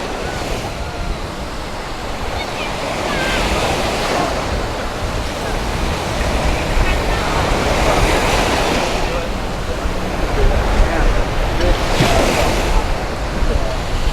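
Warm sea waves wash ashore at Jomtien Beach in Pattaya, Thailand, as a continuous roar of surf swelling and receding in slow surges, mixed with gusty wind noise on the microphone.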